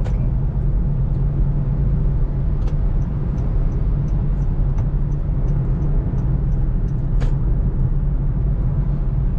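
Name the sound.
road traffic heard from inside a moving car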